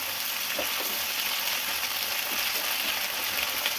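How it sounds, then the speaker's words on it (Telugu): Homemade ginger paste frying in a pan, a steady bright sizzle and crackle close up, with faint stirring taps and no talking. "ఇదిగోండి అల్లం పేస్ట్ బాగా వేగింది కదా"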